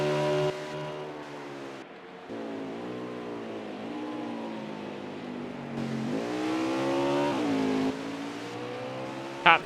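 Race car engines howl in a sim racing game at Road America, a steady close drone that climbs and drops in pitch as gears change, with several cars revving together and no talk.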